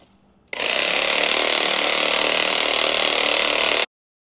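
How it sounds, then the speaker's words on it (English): A reciprocating saw cuts through the neck of a whitetail deer, starting abruptly and running as a loud, steady, close buzzing roar for about three seconds before stopping dead. "when I'm cutting with the sawzall"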